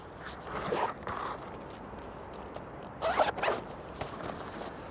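A camera backpack zipper is pulled open in a few quick rasping strokes, close up, with pauses between and a longer burst near the end.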